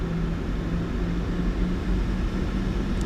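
A PMDG 737-800's jet engines hum steadily at 40% throttle in a flight simulator, a loud, even low drone with a faint tonal whine and no break across the moment.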